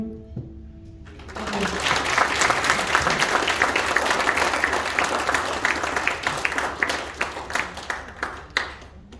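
Sustained audience applause and clapping after a live musical performance at a friendship and dialogue iftar gathering, rising quickly to a full, dense round that carries on steadily before thinning out near the end.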